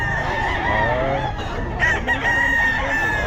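A Golden Boy Sweater gamefowl rooster crows at a busy pet market, its drawn-out call rising over a constant low crowd murmur, with a second sharper crow or cluck breaking in partway through.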